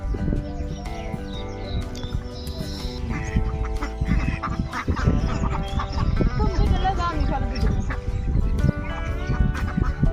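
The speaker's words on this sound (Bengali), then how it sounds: "দেখেন হাঁস আছে, হাঁসগুলো এখানে বন্দি করে রাখা হয়েছে।" Ducks penned beside a village pond quack amid grassy surroundings, heard under steady background music with someone talking over them throughout.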